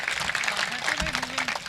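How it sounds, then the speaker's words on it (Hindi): An audience at a Hindi poetry recital gives steady, dense clapping throughout, with a voice speaking over it. "एक बार मुझे तालियां बजाकर अनुमति दीजिए"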